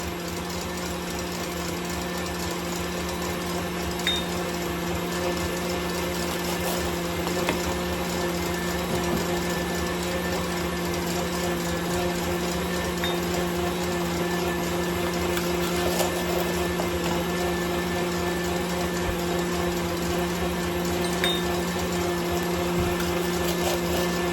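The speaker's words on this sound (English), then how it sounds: "you want to make sure that your mixer is mixing" An electric mixer hums steadily while sugar is gradually added and beaten for a jelly roll cake, a continuous close motor whir with no break over the whole stretch.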